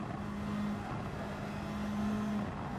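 Toyota Supra engine drone in a racing video game on easy setting, a steady continuous hum with a couple of sustained tonal whines, loud and unbroken throughout, no voices.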